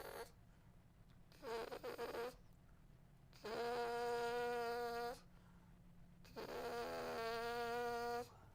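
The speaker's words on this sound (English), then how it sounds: "what helps me even more is cutout buzzing, where I really don't use any air" A trumpet player does cutout lip buzzing with very little air and pressure: one short wavering buzz, then two long, steady, pitched buzzes, each close and fairly loud with pauses between.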